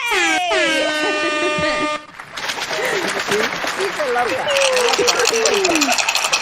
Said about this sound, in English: Play the air horn.